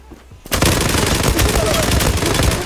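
Sustained automatic gunfire in a Zula clan-war firefight, a loud rapid burst of shots erupting after a short quiet moment and rattling on continuously to the end.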